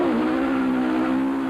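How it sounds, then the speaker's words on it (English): Rally cars at a stage start in the 1997 Volkswagen Rally snarl loudly with a sustained high engine howl and rough tyre scrabble, one continuous close roar. "drivers scrabbled for traction at the start"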